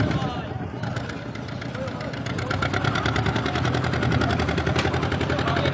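A motor boat engine on the Gosaba River in the Sundarbans chugs with a rapid, regular, pulsing beat that grows slightly louder, with voices talking over it.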